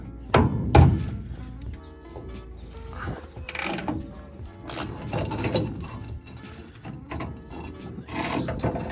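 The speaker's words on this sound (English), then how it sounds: "I'm gonna have to hammer the socket onto it." A hammer drives a socket onto a bolt while working on a 1965 Notchback under restoration, giving a busy clatter of metallic knocks and scraping, close by, with no talk.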